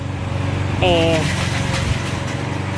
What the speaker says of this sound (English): my husband will cut on the lawnmower as I'm talking